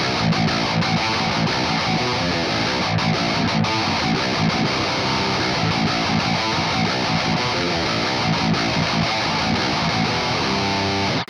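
Electric guitar through a Highwind Amplification Direwolf overdrive pedal, riffing with a thick, saturated tone, dense palm-muted rhythms played loud and steady, with no voices.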